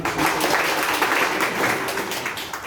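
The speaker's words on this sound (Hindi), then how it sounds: "आप सबके लिए जोरदार ताली।" An audience at a business seminar gives a burst of loud, continuous applause, with many hands clapping together for the whole moment and a little murmuring underneath.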